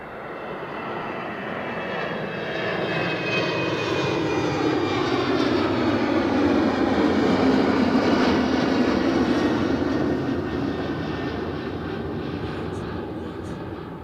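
Aircraft engine roar from a plane at Edinburgh Airport, a loud sustained broadband rumble that swells toward the middle and then slowly fades as the aircraft passes.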